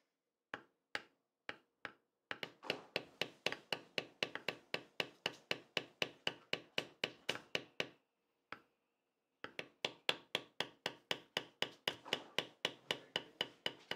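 A leather edge beveler scrapes along a strip of leather in rapid, evenly spaced strokes, crisp dry ticks repeating close up, with a brief pause before the rhythm resumes.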